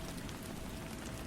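Steady rain falling as a continuous soft hiss and patter, even and unbroken, with no voices over it.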